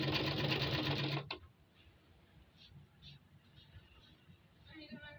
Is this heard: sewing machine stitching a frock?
yes